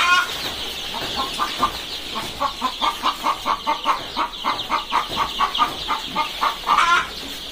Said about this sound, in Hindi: हम देखिए लोकल यानी देसी मुर्गियों का आज 12वां दिन है।